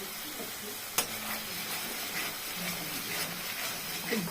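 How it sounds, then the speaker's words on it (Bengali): Spiced masala cooks in oil with a soft, steady sizzle as it is stirred and scraped, a quiet close frying hiss broken by a sharp utensil knock early on and occasional clinks. "তেল বার হওয়া পর্যন্ত আমি কষাবো, কষিয়ে আবার দেখাচ্ছি"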